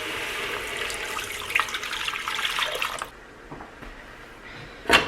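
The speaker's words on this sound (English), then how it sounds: "We're gonna add in some of the water." Water pours steadily into a cooking pot during keto meal prep for an entire week, a continuous splashing stream for about three seconds, then quieter drips and a sharp clink near the end.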